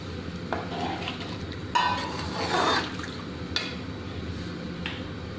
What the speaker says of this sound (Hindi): जिस बर्तन से मैंने चावल नापे थे उसी से मैं पानी डाल रही हूँ।